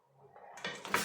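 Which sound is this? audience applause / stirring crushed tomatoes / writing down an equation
stirring crushed tomatoes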